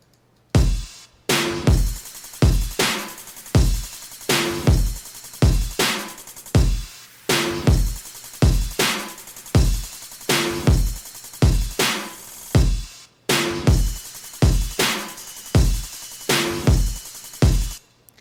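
An EDM drum groove of punchy, natural-sounding, acoustic-style kicks and snares in a steady repeating pattern, with a deep bass womp throbbing underneath. No voices.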